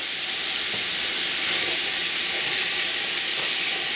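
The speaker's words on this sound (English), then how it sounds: "get another couple tablespoons of olive oil in there and put all the onions and red pepper and let that saute" Chopped onions and red pepper sauté in olive oil, giving a steady, even hiss of sizzling with a few soft stirring scrapes, close and with no talking.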